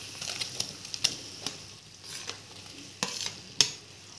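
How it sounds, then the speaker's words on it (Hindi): Idli pieces being tossed and gently stirred into a raw turmeric tempering in a pan, a soft continuous sizzle broken by a few sharp spatula taps and scrapes, close and fairly quiet. "अब इस तड़के में हम अपनी इडली डाल देंगे"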